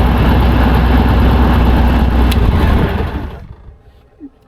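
A Rotec Renegade radial aircraft engine runs at a loud, steady idle roar close by, then the ignition is switched off and it winds down to quiet, with a faint knock after it stops.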